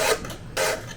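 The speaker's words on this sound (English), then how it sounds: "Thanks to Buck and Billy Ray for giving me the confidence to try my hand at hand sharpening." A chainsaw chain being sharpened by hand with a file gives two loud raspy strokes, one near the start and another about halfway through, each a bright scraping burst close to the listener.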